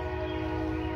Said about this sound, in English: Running trains. Listen to that.